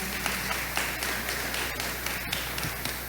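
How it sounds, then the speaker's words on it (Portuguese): A small audience claps for a man named Douglas, producing sparse, uneven individual claps and taps rather than a full ovation, fairly close and moderately loud. "Palmas para o Douglas, pessoal"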